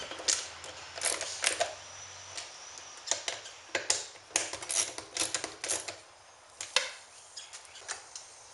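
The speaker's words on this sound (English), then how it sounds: "With the airbox pushed forward, I can drop the battery box in, then bolt it down." Battery box being bolted down on a Ninja 250 motorcycle during an EFI kit install, with a run of close, sharp metallic clicks and ratcheting taps in irregular bursts and short pauses between them.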